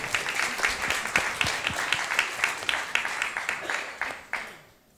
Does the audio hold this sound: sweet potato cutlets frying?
no